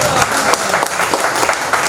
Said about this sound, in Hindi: ताली बजाइए सबके लिए।